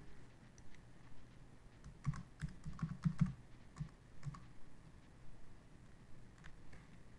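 Keyboard typing while entering a vCenter host name, username and password during FlashCopy Manager for VMware configuration: a faint, quiet burst of quick keystrokes clustered in the first half, with light clicks trailing off over steady room hum.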